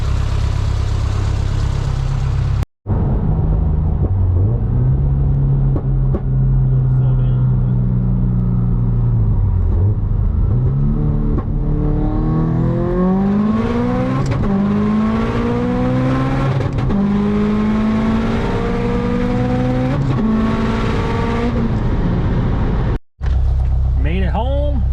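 Car with an ACT street clutch launching hard on a street pull, loud engine climbing through several rising gear pulls with brief cuts between shifts, heard up close and continuous for most of the run.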